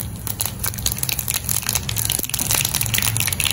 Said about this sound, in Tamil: இப்போ இதில் எண்ணெய் காஞ்சிருச்சு, கடுகு தாளிச்சிடலாம்.